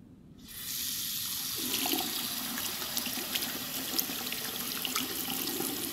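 Water runs steadily from a tap for washing up in Life is Strange 2, a loud, close, continuous hiss and splash that starts abruptly after a moment of silence and keeps flowing evenly.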